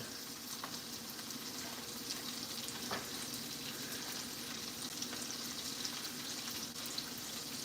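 A steak sears in a very hot pan of oil and butter while it is basted, giving a steady close sizzle and crackle with occasional spoon clinks and spatters.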